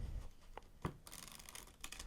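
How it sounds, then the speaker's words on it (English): A deck of playing cards shuffled up close for solitaire in a quiet room: soft crisp riffling and a few sharp snaps and taps, alone without talking. "We do, of course, need to shuffle the deck"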